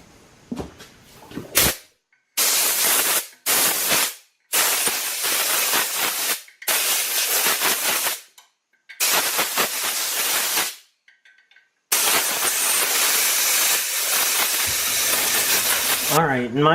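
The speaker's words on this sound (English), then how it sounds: "I'm just gonna get an air gun and I'm gonna blow this thing off" Air gun blowing dust off an electric motor meant for a homemade belt grinder, sounding as a series of loud, close hissing blasts of several seconds each, split by short silences, with a final long burst.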